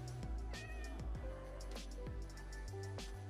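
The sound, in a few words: cat meowing in Minecraft video game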